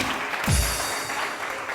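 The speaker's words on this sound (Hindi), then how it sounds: "बहुत सारी तालियां इनके लिए।" Studio audience on a Hindi morning TV show applauding steadily, a dense, continuous clatter of clapping that fills the room at full volume with no break.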